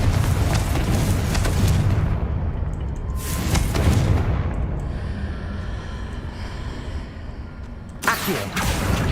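Blasts from the Confringo fire spell in Hogwarts Legacy go off as loud, broad booms: a sustained rumbling explosion at the start, another burst a few seconds later, and a final blast near the end.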